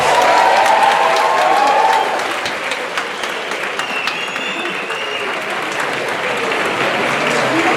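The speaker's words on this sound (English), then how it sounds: "let's give all of these folks who supported you a round of applause" A large audience at a graduation celebration applauds steadily, a dense wash of clapping that stays loud throughout with a few faint whistles.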